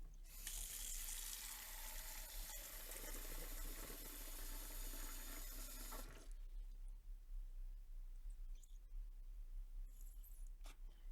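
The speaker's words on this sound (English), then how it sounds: "I'll keep doing it until I get clear water coming out of it." Water from a tap runs steadily for about six seconds, rinsing dried black ink from a fountain pen, then stops, leaving faint clicks and small handling noises.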